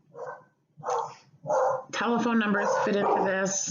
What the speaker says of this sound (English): The dogs are a little distracting.